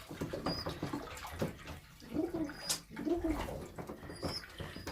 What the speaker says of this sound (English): I try and pour it so that it makes a bit of noise so that the birds